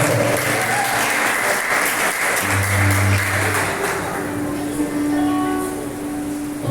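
A church congregation applauds loudly during a service, sustained clapping that fills the room, with low sustained tones and some voices underneath, easing slightly toward the end.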